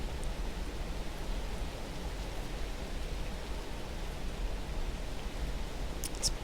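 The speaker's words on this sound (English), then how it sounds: "It's pouring here at the moment, so that's the noise you can hear in the background." Heavy rain pours down outside as a steady, even wash of broad hiss that runs unbroken throughout, fairly soft and uniform with no voices.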